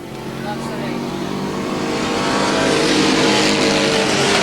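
Stock cars race at Lorain County Speedway in 1987, a loud, dense engine roar that swells steadily as the field accelerates, with a commentator faintly audible beneath.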